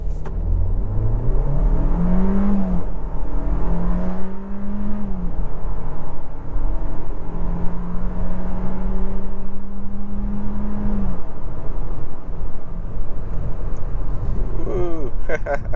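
A 2025 Kia Seltos SX AWD in sport mode with traction control off launches hard for a 0 to 60 run, its engine note climbing and dropping through several gear shifts, loud and close from inside the cabin.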